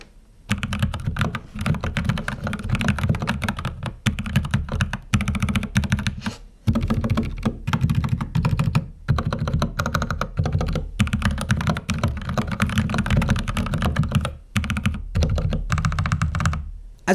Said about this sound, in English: to give you guys a better idea of what this keyboard sounds like